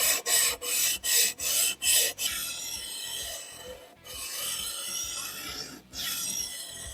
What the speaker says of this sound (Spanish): la piedra diamantada está realizando el trabajo de forma correcta